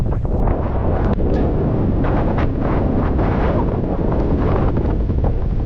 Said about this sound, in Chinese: 这还真的是风声浪声树叶声，声声入耳啊！